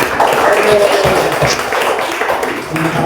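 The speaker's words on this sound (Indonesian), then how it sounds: "Kita tepuk tangan sekali lagi untuk yang kelompok 1" Applause for a student group presentation in a school classroom, a dense, steady patter of clapping hands filling the whole stretch at close range, with some voices mixed in.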